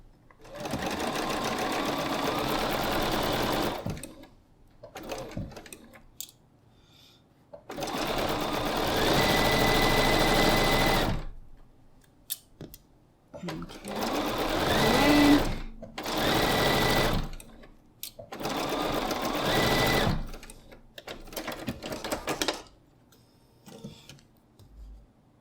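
A sewing machine stitching quilt block pieces runs in several loud, close bursts of steady rapid whirring, separated by short pauses with faint handling sounds.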